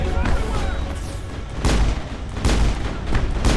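Shotgun blasts fire in a Mass Effect battle, several heavy booming shots at roughly regular intervals over dense game noise and music.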